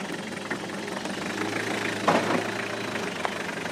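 A vehicle engine idles low and steady while creeping down a steep descent, a faint continuous rumble with a few small knocks and bumps and no talk.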